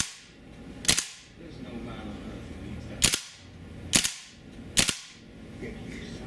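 A WE AK74-UN gas blowback open-bolt airsoft rifle fires four single semi-auto shots, each a sharp, loud crack spaced unevenly about a second apart, with quiet handling noise in between.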